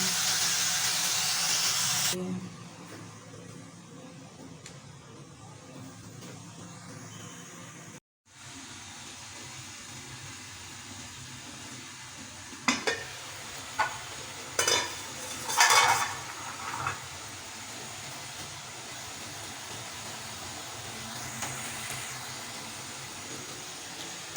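Chopped tomatoes go into chicken karahi frying with black pepper and cloves: a loud hiss at first, then a quieter steady sizzle broken by a few clinks of a utensil against the pan.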